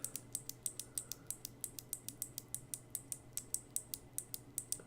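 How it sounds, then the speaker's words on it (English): Kailh Box White keyboard switches pressed in a quick, even series of light, crisp clicks, close-up but somewhat quiet over a soft low background hum, with nobody talking. "This is the sound of the box white."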